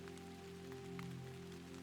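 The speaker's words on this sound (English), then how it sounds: "while rain fell outside" Steady rain falling outside on a quiet night, a soft continuous patter with faint scattered drops over a low background hum, no voices.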